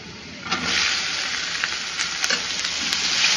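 Finely chopped onion frying in a pan, a loud continuous sizzle that swells after a quieter start, close up, with light stirring taps throughout.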